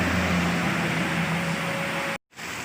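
Rain falls at a roadside eatery serving laab in Ubon Ratchathani, a steady broadband hiss that holds level before cutting out abruptly for a moment near the end and then returning.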